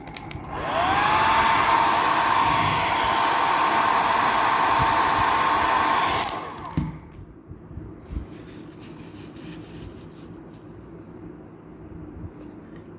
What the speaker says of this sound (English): I'm going to use the hairdryer to blow it for a while, just a few seconds